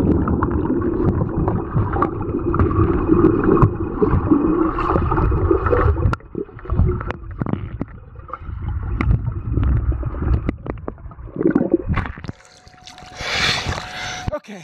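A camera, a Nikon AW-110, is carried into a swimming pool and goes underwater. Rough splashing and sloshing water dominate, then the sound goes muffled with gurgles and bubbles before a bright splash near the end.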